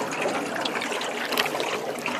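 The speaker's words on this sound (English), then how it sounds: "That is called oxygenating the water." An airlift water tower in Elgin, Texas splashes and gushes steadily as it oxygenates the water, a close, continuous watery rush with no pauses.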